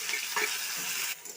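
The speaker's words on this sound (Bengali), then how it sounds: "ভালো করে নাড়াচাড়া করে পেঁয়াজগুলো ভালোভাবে ভেজে নিতে হবে।" Chopped onions and tomatoes fry in hot oil with black cumin and slit green chillies for a mustard fish curry, giving a close, loud hissing sizzle that briefly drops in level near the end.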